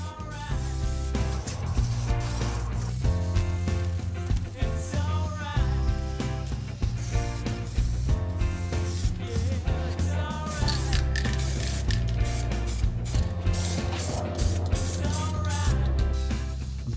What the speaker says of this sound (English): I'm going to spray the end caps and these bits of trim that go on the edge of the glass.